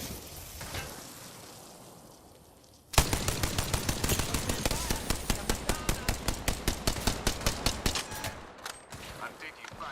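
Rapid bursts of automatic gunfire in a first-person shooter game, starting abruptly and continuing as a steady loud rattle of evenly spaced shots for several seconds before cutting off, with a brief softer burst after.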